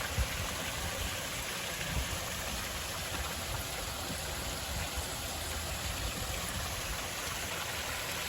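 A waterfall pours into a stream at the Ferrari Carano winery, a steady close rushing wash of water that stays unbroken and even throughout.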